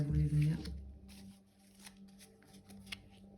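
Tarot cards being shuffled at close range, a soft papery riffling that follows a brief voice at the start and continues quietly on its own.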